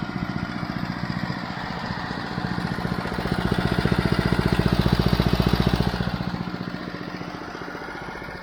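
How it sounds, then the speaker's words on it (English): A Honda HRC216 commercial walk-behind lawn mower with a rear discharge chute runs steadily on a farm barnyard, its engine drone loud and close, swelling slightly in the middle before easing off. "we've had this Honda mower now, and I wanted to get it on the farm and give it a try"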